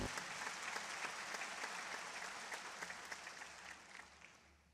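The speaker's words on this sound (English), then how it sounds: "Please clap for him." An audience at an international family planning conference claps steadily, a dense, distant-sounding wash of applause that slowly fades toward the end.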